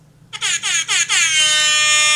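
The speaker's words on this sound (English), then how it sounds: "You have an air horn." A loud, close air horn sounds in several quick stuttering bursts, then settles into one sustained blaring tone.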